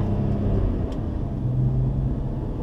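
A car with a sequential manual gearbox pulls away from a stop sign in first gear, its engine a close, steady low rumble that climbs slightly through the short moment.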